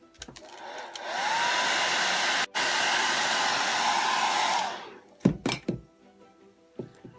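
A hair dryer blows steadily for several seconds while glued decoupage hearts are dried, then switches off, followed by a few close knocks and thunks.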